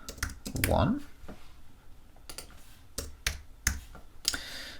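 A computer keyboard clicks in a few quick, sparse keystrokes while a layer is renamed in After Effects, a short burst of speech opening before the tapping.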